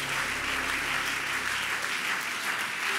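A church congregation applauds in dense, sustained clapping that fills the room evenly from start to finish.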